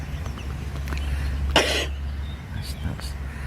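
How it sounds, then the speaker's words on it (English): A young girl coughs once, a short harsh burst, close to the microphone outdoors by an estate fishing lake, followed by a couple of fainter throat sounds over low wind rumble. "Excuse the daughter from coughing."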